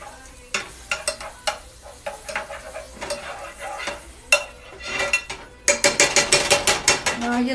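Butter sizzles in a crepe pan while a utensil scrapes and taps the metal in quick bursts, the frying growing louder and more rapid toward the end, close and without talk.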